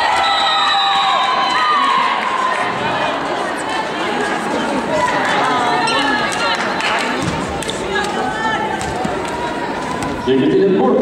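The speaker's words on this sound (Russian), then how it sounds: "Поддерживаем подачу аплодисментами." A volleyball arena crowd at a women's playoff match in Yekaterinburg cheers and shouts steadily to support a serve, loud and dense throughout, with an announcer's voice mixed in.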